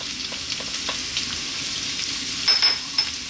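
Onion, garlic and whole dried chili sizzle in a thin layer of oil for a vegan zucchini tomato pasta, a steady close hiss with faint stirring clicks and a brief brighter crackle near the end.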